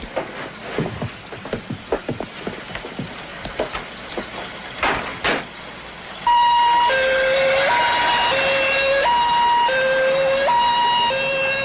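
Scattered clicks and knocks give way to a loud, close two-tone siren that alternates steadily between high and low pitches until the end.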